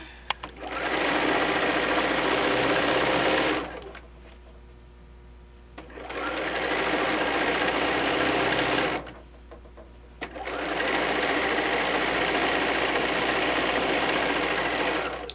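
A sewing machine runs a straight stitch along fabric in three sustained bursts of steady whirring, with short quiet pauses between them, loud and close.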